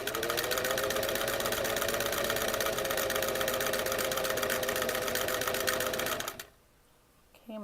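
A vintage Singer 327K sewing machine runs a number 3 zigzag stitch at a fast, even chatter, loud and close, with the table shaking, then stops abruptly near the end.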